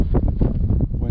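Gusty wind buffets the microphone beside a fly-fishing water, a loud, rough rumble that swells and dips in short bursts throughout.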